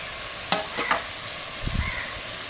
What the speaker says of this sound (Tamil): இது இஞ்சி பூண்டு சோம்பு அதில் போட்டு நல்லா சுள்ள சுள்ள வதக்கணும்.